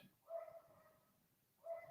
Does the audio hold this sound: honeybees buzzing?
no